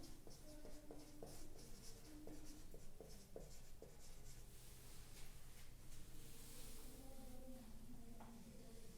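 Chalk or marker writing formulae on a board during a physics lecture on the Bohr model, heard as a run of short scratchy strokes at close range, with no talk over it.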